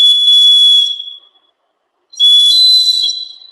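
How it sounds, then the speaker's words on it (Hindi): A hollow clay bird water whistle blown in two bursts, each a bright, warbling trill with a steady shrill tone, separated by about a second of silence; close and loud with no voices. "पानी से सीटी मारता पक्षी"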